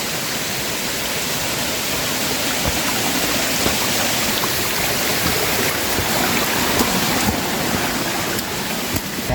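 A clear mountain river in a forest near Bukit Tunggul on Mount Pangparang, Bandung, rushes in a dense, steady broadband wash, close and loud throughout without a break and with no voices over it.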